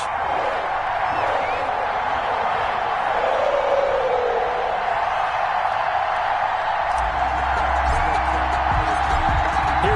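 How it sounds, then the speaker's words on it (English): A stadium crowd at a Colts vs Bengals football game in Cincinnati fills the air with a constant roar and scattered cheers, with a commentator's voice talking over it. "This crowd is ready as their guys get set to match up between the Indianapolis Colts and the Cincinnati Bengals."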